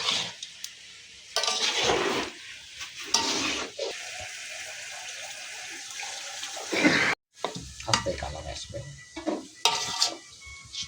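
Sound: food frying and sizzling in oil

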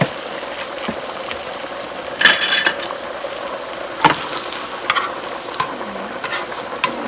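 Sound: angel hair pasta with shrimp being stirred and fried in oil

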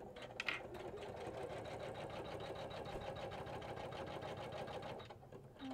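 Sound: Janome 500e embroidery machine stitching applique

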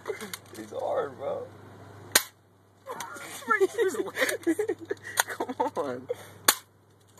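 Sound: gunshots from a gun in a video game

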